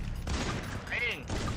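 Gunfire in the Free Fire battle royale game, a burst of rapid shots under excited voices, with a sweeping whistling tone in the middle.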